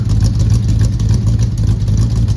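A 1964 Dodge Dart GT convertible engine runs at a raised cold idle with a faulty choke that doesn't fully close, giving a steady, loud, low rumble that holds evenly throughout.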